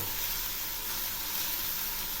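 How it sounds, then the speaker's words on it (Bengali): Small chuno fish frying lightly in oil, a dense steady sizzle held close and loud from start to finish. "এই জলটা শুকানোর জন্য একটু ভেজে নিচ্ছি"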